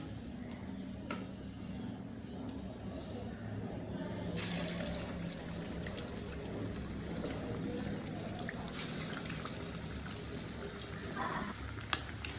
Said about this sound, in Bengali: এখন হচ্ছে আমি এগুলোকে ডুবো তেলে ভেজে নেব।